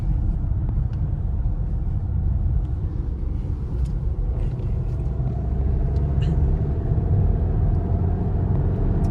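A 2026 Renault Duster turbo petrol engine pulls under acceleration, heard as a dense, steady low rumble from inside the cabin, with road noise and no talk.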